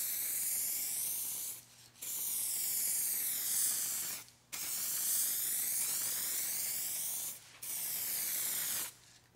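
A rattle can sprays paint onto a car in four long, close, loud hissing bursts separated by short pauses.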